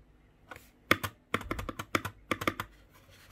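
Typing on an IKBC Poker 2 60% mechanical keyboard with Cherry MX switches: bursts of sharp, close key clacks in uneven rhythm, separated by short pauses, with no talking.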